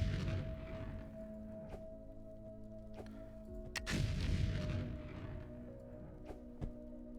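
Explosions blasting through blocks while digging toward lava caves in the game Foundry, a handful of dull booms and sharp cracks spread across the stretch over a steady mechanical hum, one heavier blast near the middle.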